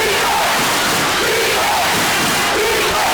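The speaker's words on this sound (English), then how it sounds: "You can hear the crowd. They are all around us." Gym crowd at a high school boys' basketball game, Lorain vs. Bedford, roars and yells continuously around the listener, loud and dense, with no break in the noise.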